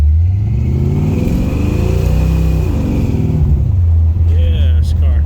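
Close, loud rumble of a 1999 Ford Mustang with a 429 engine, its lumpy chopping idle loping as the car slows, pitch sliding down then settling into a steady throb.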